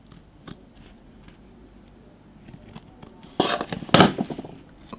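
Scissors snip through a cardboard toilet paper roll in a few close, crisp cuts near the end of the clip, with a quieter lead-in of light handling.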